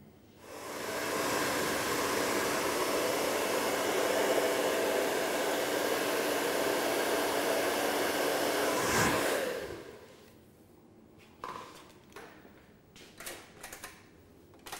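A handheld hair dryer blows hair dry, a loud steady whoosh running about eight seconds before cutting off, followed by quiet handling noises and light clicks.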